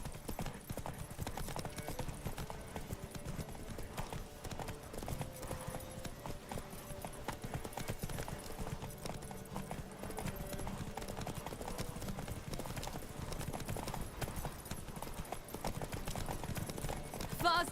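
Roach, the horse in The Witcher 3 video game, gallops in a race, with steady fast clip-clop hoofbeats continuing throughout at moderate volume amid game background sound.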